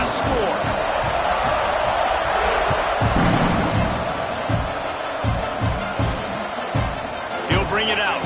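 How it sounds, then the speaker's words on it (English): A stadium crowd in College Football 26 roars with a steady, loud buzz, with a sharp thump near the middle and commentary running over it. "this crowd is buzzing after that last score"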